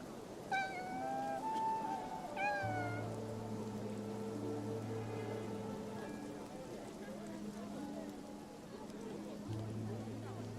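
A cat meows a few times early on, close and moderately loud, then the sound gives way to steady rain and ambient tones in a game scene, with a voice speaking quietly underneath.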